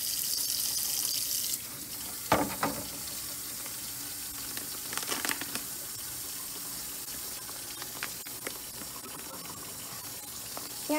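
Tap water runs into a kitchen sink while it is being cleaned, a steady hiss that starts loud then drops to a softer flow, broken by a few clunks and knocks of items being moved in the basin.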